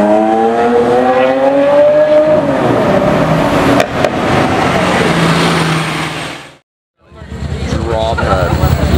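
A Lamborghini Aventador S supercar passes nearby with a loud, rising engine roar that swells and then cuts off abruptly, while people talk excitedly over it.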